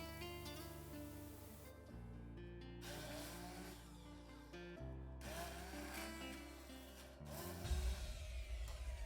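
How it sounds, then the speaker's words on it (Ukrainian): A loud, steady mechanical whirring of an immersion blender grinding soaked poppy seeds with sugar runs throughout and rises in pitch and intensity near the end, like a motor grinding under load. "Перетираємо його занурювальним блендером"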